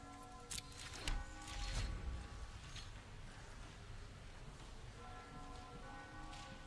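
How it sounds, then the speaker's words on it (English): Soft bell chimes ring in MTG Arena as the Godless Shrine land is played. A thud comes first, then sustained ringing tones that fade, and a lighter chime returns near the end. "I'm going to play the Godless Shrine and listen in for the bells."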